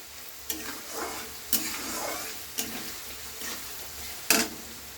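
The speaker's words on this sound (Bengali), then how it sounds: "ভালো করে নাড়িয়ে নিলাম এভাবে নাড়াতে হবে রসুনটা ছাড়িয়ে ছাড়িয়ে দিচ্ছি" Onion and garlic frying in a pan on a steady sizzle, broken by four sharp scraping strokes of a spoon spaced about a second apart, close and fairly loud, with no voices.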